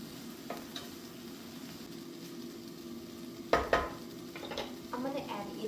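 Mince sizzles steadily in a pan for loaded fries, with a few loud scrapes and clanks of a utensil stirring it partway through and a busier stretch of stirring near the end.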